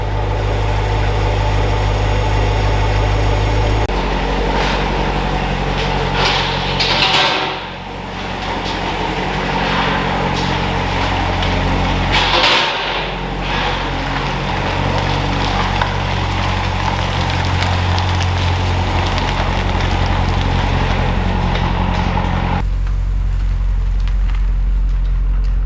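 A 1964 Chevrolet Corvette C2 V8 idling as it warms up indoors, a loud, steady low rumble that holds throughout with slight shifts in tone, close by and with no talking.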